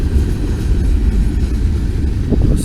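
A train rolls past Irving Siding with a loud, continuous low rumble and rail noise that holds steady throughout, heard close with no talking.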